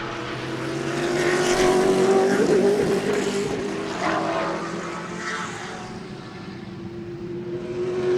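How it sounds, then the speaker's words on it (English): A GT race car laps the Sebring circuit with a loud, sustained engine drone that swells and eases slightly as it passes, steady throughout with no talk over it. "What a pretty race car,"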